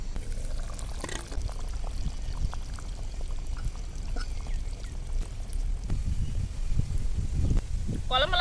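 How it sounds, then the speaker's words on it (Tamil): Fish is dropped into a boiling village-style fish curry with brinjal and mango, giving splashing, pouring and bubbling liquid sounds close by, with a person talking over them. "நல்லா கொதிச்சிருச்சு மீனை வந்து போட்டாச்சு"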